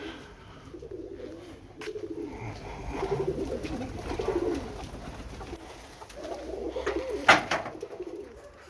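Roller pigeons coo softly and repeatedly nearby, with one sharp flapping burst near the end against a quiet outdoor background.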